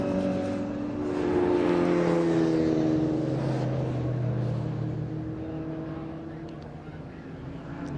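Historic race cars in the HRDC All-Stars race at Thruxton come through the chicane, a sustained engine drone rising and falling in pitch at mid distance, with a commentator talking over it.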